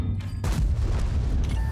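A tank cannon fires in World of Tanks, playing a Chimera, as a single deep boom with a rumbling tail that stays loud and dense to the end, with no talk over it.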